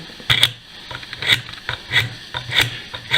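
A knife blade is drawn through a handheld sharpener meant for pocket and kitchen knives, giving a steady rhythm of crisp, rasping strokes up close, each with a faint metallic ring.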